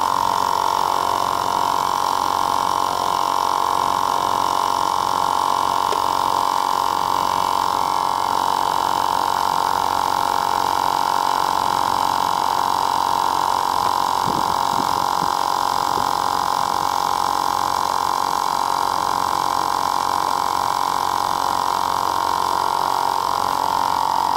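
A Harbor Freight 12V 100psi high-volume air pump runs outdoors on a hot sunny day, a steady unbroken motor drone with a strong mid-pitched hum and faint higher whine, constant and fairly loud throughout.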